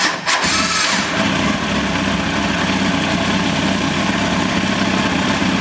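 A motorcycle engine with an ignition switch fault cranks and catches with a quick burst, then settles into a steady, close idle that runs on without cutting out, no talk over it.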